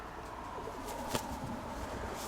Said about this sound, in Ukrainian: Цей голубок у мене зимовий, це кремат.